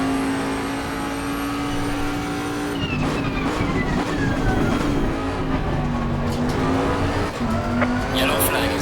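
A Bentley race car at Imola in Assetto Corsa Competizione, its engine loud and close, pitch dropping under braking, then climbing again with a brief tire squeal; a voice talks over it.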